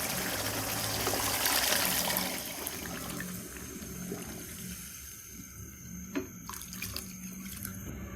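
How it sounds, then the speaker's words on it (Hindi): About a litre of water pours into a pot of browned mutton curry with a loud continuous splashing rush that fades into softer trickles and bubbling, close up with no talking. "अब हम इसमें पानी शामिल करेंगे"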